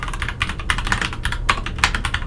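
Typing on a Vissles keyboard with tactile brown switches, a close, brisk patter of soft clicks and keystrokes at an uneven rhythm, with no talk.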